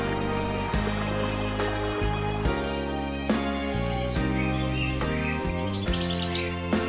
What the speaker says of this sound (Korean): 맑은 새소리가 들려온 이곳은 사색의 길입니다